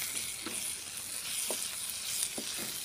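Bombay duck dry fish stir-fried with onion and spices in a village-style pan, a faint steady sizzle with a few light spatula scrapes spaced out, quiet and without talk.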